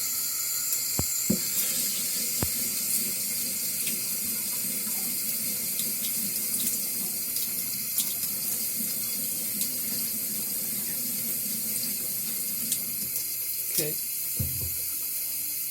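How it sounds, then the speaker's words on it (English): Tap water runs steadily over a Mikawa nagura sharpening stone as it is rinsed, a continuous close splashing wash with a few faint knocks and a brief spoken word near the end. "And I'll rinse this stuff off"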